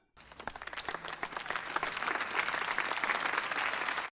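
Applause from a crowd of film extras in The Aviator, a dense wash of many hands clapping that swells after a sharp onset and holds steady and loud to the end.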